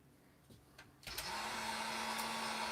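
A heat gun switches on after a few soft handling clicks and then blows in a steady loud whoosh with a faint hum while heating a plastic part so it can bend.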